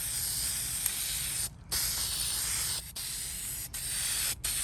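Spray paint hisses steadily onto the cage of a 1955 Westinghouse fan, long continuous bursts broken by four short pauses, loud and close with no talking.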